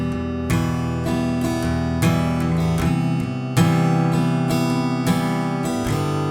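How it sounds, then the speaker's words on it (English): Clean electric guitar playing the intro of a song at full speed, steady strummed chords with ringing sustained notes in an even rhythm, close and alone without talk. "So the clean guitar part, the part that we hear in the intro, when played at speed"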